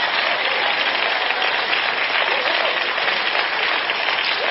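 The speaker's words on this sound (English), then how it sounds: "Now, if you're going to applaud, do it right, or don't do it at all." A church congregation applauds, with loud, continuous, dense clapping that holds at an even level throughout, with no break and no voice on top.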